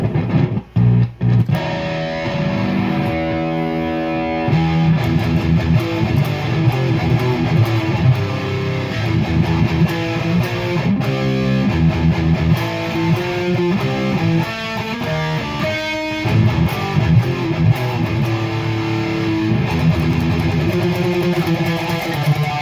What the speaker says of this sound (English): Now I'm going to switch the guitar out for the BC Rich that always sounds good